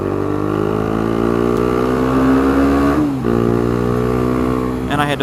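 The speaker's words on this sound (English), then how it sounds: "I had to floor it because the guy in the Toyota behind me, or was it a Honda, was not going to let me in" A car accelerating hard while merging onto a highway, its engine note climbing steadily and loudly for several seconds, dipping briefly as it shifts gear, then pulling again.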